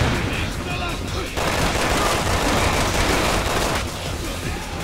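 Dense, continuous gunfire in Resident Evil 6's Mercenaries mode, rapid shots blending into a loud, sustained barrage with brief dips in intensity.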